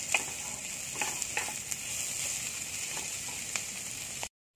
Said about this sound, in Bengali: সব সবজি একসঙ্গে ভাজা হয়ে গেছে, নামিয়ে নেব।